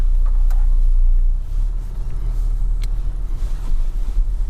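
Low steady engine rumble inside a 2016 Honda HR-V 1.5 CVT automatic as it pulls away, loud and close, dipping slightly after the first second and then holding even.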